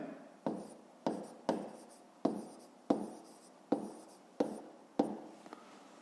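Pen or chalk writing by hand while a fifth-grade math answer is noted down, heard as eight crisp, evenly spaced strokes, close and clear with no talking.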